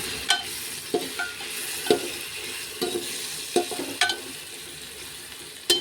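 Turmeric and coriander powder fry in a pan for village-style khichdi, a soft continuous sizzle broken by a series of sharp spoon scrapes and taps against the pan, close up and without talking.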